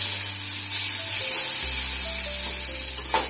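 Asafoetida, turmeric and ginger-garlic paste sizzle loudly in hot oil for an Indian potato curry, a steady close frying hiss with faint stirring and a brief clink, no voices.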